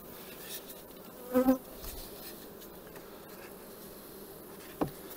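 Honeybees buzz around enlarged hive nucleus boxes as a beekeeper works the frames, a constant close hum with individual bees zipping loudly past the ear.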